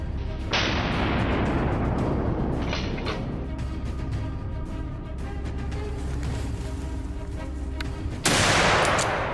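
A hunter's gunshot at a wild boar during a wheat harvest, a loud sharp blast followed by a long rumbling decay, with a second report near the end over steady machinery-like noise.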